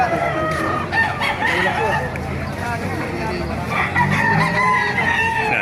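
A rooster crows loudly nearby at a market in Baliuag, Philippines, with clucking hens and people chatting in the background.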